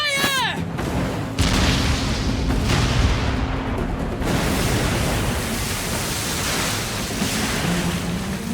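Pirate ship cannons in Like a Dragon fire in heavy booming volleys, followed by a sustained roar of blasts and rumbling explosions at loud, close range, with no talk.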